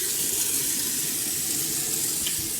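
A faucet runs steadily at a sink for face washing, a continuous close hiss of water splashing into the basin without pause.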